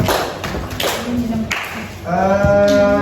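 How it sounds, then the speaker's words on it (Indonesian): A classroom gives a presenting student group a few scattered hand claps, and people's voices rise up alongside them toward the end. "Beri tepuk tangan dulu untuk Rahmat dan kawan-kawan yang sudah menjelaskan"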